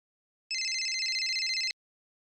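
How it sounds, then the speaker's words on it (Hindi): A phone ringtone sounds once, a bright electronic trill lasting about a second before cutting off into silence. "एक मिनट, फोन आया।"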